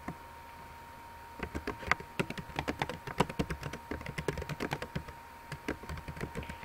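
Description typed on a computer keyboard: steady, rapid key clicks in close succession, with a faint constant hum behind them.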